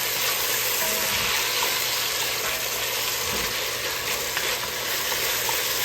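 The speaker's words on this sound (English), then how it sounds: "We're going to put a little garlic in there" Garlic sizzling in a hot pan for a spicy sausage and shrimp dish, a steady broadband fry hiss that continues evenly with faint low stirring bumps and no talk.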